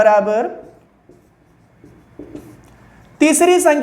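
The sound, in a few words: writing numbers on a board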